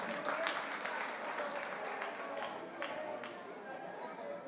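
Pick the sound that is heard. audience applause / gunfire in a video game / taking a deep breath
audience applause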